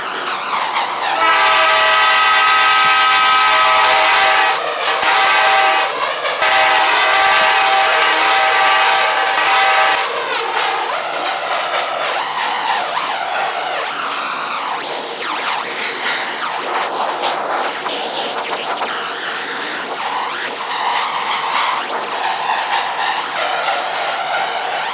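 Toy trains run at once, starting with a loud sustained horn blast followed by continuous rattling and clacking wheels on track, close and alone without talk.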